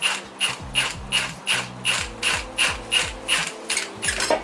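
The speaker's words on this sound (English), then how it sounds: "we're gonna use a 19mm wrench socket and our impact gun and drag this guy out" A 19mm socket on a 1JZ VVTi crank pulley bolt gives a fast, regular run of loud metallic ratcheting bursts, about two or three per second, close up with no talking.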